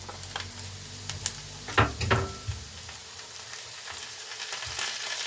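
Potatoes and grated onion fry in a pan in quiet, steady sizzling, with a few louder crackles and bumps around the middle as the onion goes in.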